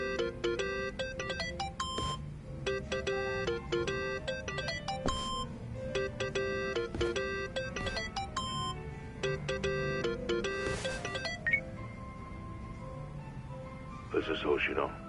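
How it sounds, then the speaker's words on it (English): A phone ringtone in a PS4 game plays a repeating electronic melody in bursts over a steady background, followed by quieter stretches and brief chimes near the end. "Think that's your phone"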